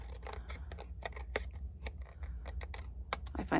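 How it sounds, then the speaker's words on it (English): Scissors trimming paper while building a handmade greeting card, a quick series of crisp close-up snips and clicks at an irregular rhythm over a quiet low hum. "I find it just as easy with scissors."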